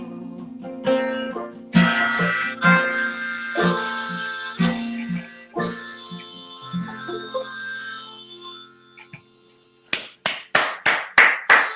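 A lone singer's sustained, tuneful notes fade into silence, and then about six sharp, separate hand claps ring out close and loud at the close of a song in an online pass-the-song music session.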